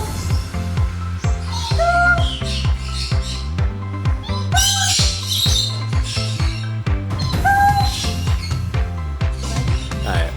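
Pet parrot squawking loudly and repeatedly at close range, harsh raspy calls in quick bursts over a steady low background hum, with no talking.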